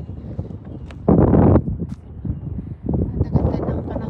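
Gusts of wind buffet the microphone outdoors in Norway in loud rumbling bursts, with a person talking in between.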